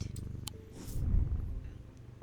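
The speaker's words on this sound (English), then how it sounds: "There you go. Good kitty cat." A cat purring in a dark horror video game, a close, continuous low rumbling purr that swells in the middle, with faint soft clicks and ambient tones around it.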